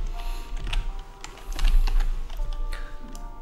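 Steady run of computer keyboard keystrokes as text is typed into After Effects, rapid clicks with uneven rhythm, close and clear over a low background hum; no talk.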